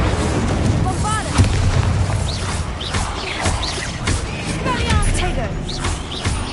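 Booming spell blasts of Bombarda and Incendio in the video game Hogwarts Legacy on PS5, several loud explosive thumps over a dense, continuous game soundscape, with a voice speaking over the action.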